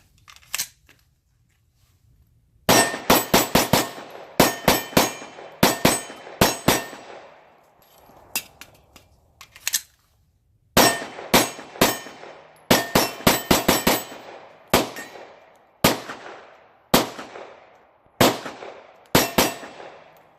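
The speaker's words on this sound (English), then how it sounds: "I'll put first mag through the H9." Shots from a Hudson H9 pistol emptying the first magazine, sharp loud reports in quick clusters separated by short pauses, with no talking.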